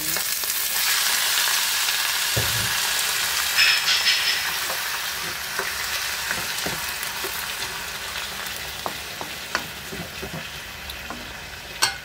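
Chicken frying in a pan with lightly browned garlic and onion, giving a steady, close sizzle with faint scraping stirs and no talking.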